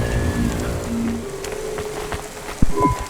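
Rain falls in the Cloudpunk video game outside a city restaurant, a steady wash mixed with ambient tones and a sharp clatter near the end.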